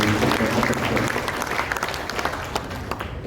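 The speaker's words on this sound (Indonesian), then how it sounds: "Tepuk tangan dulu untuk teman-teman" Members at an Indonesian labor union congress give a hearty round of applause, a thick wash of many hands clapping that starts strong and slowly thins over a few seconds.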